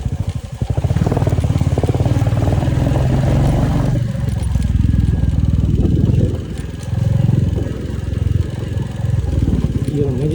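Motorcycle engines rumble steadily close by on a mountain road in Manang, Nepal, with clattering and throttle changes throughout and a voice talking over the noise.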